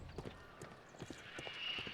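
Horse hooves clip-clop in a Victorian London street scene from the Sherlock Holmes: The Devil's Daughter video game, a quick run of moderate, fairly close footfalls beside a cab carriage at an accident site.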